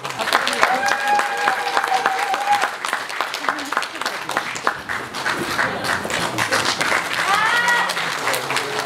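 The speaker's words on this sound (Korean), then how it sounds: "교수님을 뜨거운 박수로 모시겠습니다" An indoor audience at a Korean launch ceremony breaks into continuous applause to welcome a history lecturer. The clapping is dense and sustained throughout, with a voice speaking over it.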